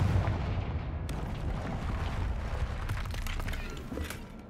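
A Confringo blast spell explodes in the video game Hogwarts Legacy, a loud booming burst with crackling debris that rumbles on for several seconds and then fades, with no talk over it.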